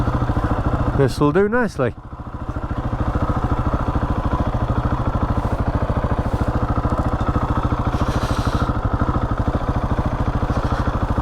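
A motorcycle engine idles steadily and close with an even, rapid thumping pulse while parking, and someone speaks briefly over it near the start.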